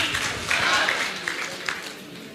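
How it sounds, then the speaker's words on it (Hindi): An audience at a talk in India breaks into applause, a steady wash of many hands clapping at moderate distance with some voices mixed in. "जोरदार तालियां हो जाए।"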